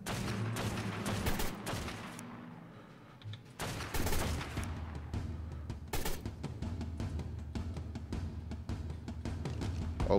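Rapid, sustained gunfire in ARK: Scorched Earth, with dense volleys of shots that break off briefly before resuming in loud repeated bursts and sharp individual cracks.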